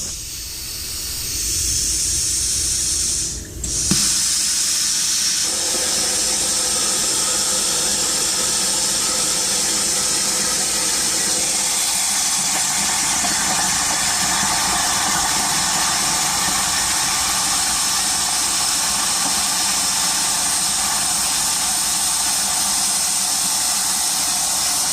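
A CNC machine cutting a 3-inch circle part gives a loud, continuous hissing, whining roar that shifts briefly near the start, then holds steady and unbroken throughout.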